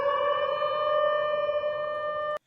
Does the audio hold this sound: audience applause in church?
no